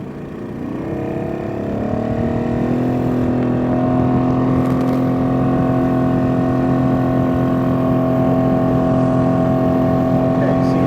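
A Yamaha 90 HP outboard motor on a boat sea trial, suspected of running in limp mode, rises to a loud steady drone and holds it, with people talking faintly over the engine.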